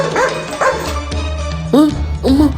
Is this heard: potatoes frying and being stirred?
no